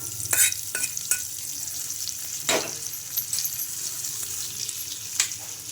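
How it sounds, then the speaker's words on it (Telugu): A soft, continuous sizzle as a hot tempering is poured into chutney, with occasional sharp clicks and scrapes of a spoon stirring in the pan. "ఇప్పుడు ఈ చట్నీలో అయితే పోపు అయితే వేసేసుకుంటున్నాను"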